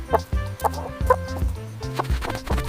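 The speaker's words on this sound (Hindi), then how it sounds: "हैन को हिंदी में मुर्गी कहते हैं।" A hen clucks in a rapid, rhythmic series of short, close calls, steady and loud with no other sound around it.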